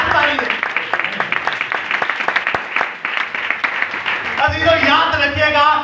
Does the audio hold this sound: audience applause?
yes